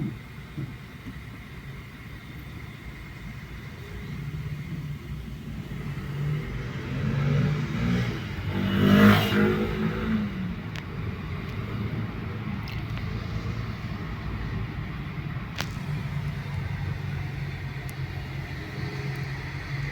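A bus passing on a city street in Poland, a broad engine rumble that swells to a peak midway and then fades under steady traffic noise, with no talk.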